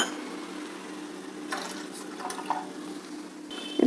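Water poured into a cooking pot for rice-flour kadubu dough gives a soft, close splashing and trickling that swells midway and ends with a brief louder clatter, with no talk.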